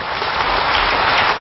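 Applause in a parliamentary chamber during a presidential address, dense sustained clapping from many hands, loud and even, cutting off abruptly at the end.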